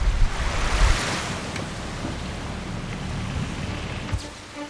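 Ocean waves off Jeju Island near Seogwipo, a continuous rough wash of surf with wind buffeting the microphone, loudest at the start and then settling into a steady roar.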